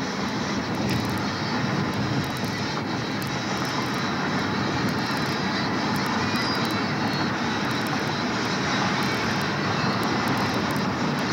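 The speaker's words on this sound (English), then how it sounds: "Jet now seems to be wanting to take off." A jet aircraft engine roars steadily at a distance as it spools up for takeoff, a continuous broad rush with no breaks or voices.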